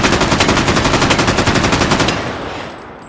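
Sustained automatic assault rifle fire in the VR shooter H3VR, about two seconds of rapid, evenly spaced shots, loud and close, ending abruptly and leaving a fading echo.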